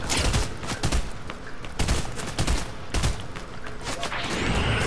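Heavy volleys of gunfire in Fortnite, loud and close, come in repeated clusters of shots throughout, with no talk over them.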